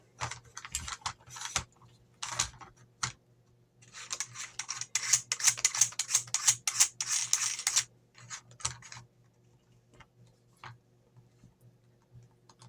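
Metal castle nut being threaded onto an AK-12 stock adapter, giving quick bursts of small clicking and ratcheting ticks in uneven clusters, close and fairly quiet, with pauses between runs.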